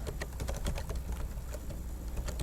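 Rapid, close clicking of computer keyboard keys as a short command is typed into a terminal, a quick continuous patter of keystrokes.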